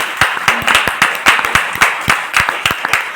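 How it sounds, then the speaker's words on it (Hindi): Loud applause from the audience at a network marketing training session, sharp rhythmic claps in a regular beat, close and distinct, with some crowd noise underneath. "जोरदार तालियां हो जा सकती"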